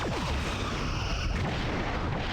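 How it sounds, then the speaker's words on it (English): Photon torpedoes launching from a starship in the space combat game Star Trek Bridge Commander: a loud, dense blast of weapon fire with falling, whooshing sweeps at the start over a constant roar of battle noise. "We got a couple of torpedoes launched."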